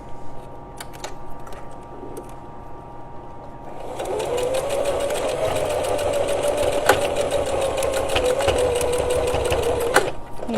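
A sewing machine stitches folded webbing for bag buckles, running steadily back and forth for several seconds after a quieter lead-in, loud and close.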